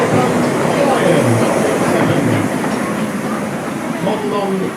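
A miniature steam locomotive modelled on the Liverpool and Manchester Lion rumbles steadily past at a light railway gala, close and loud, with a continuous rolling clatter and faint voices in the background.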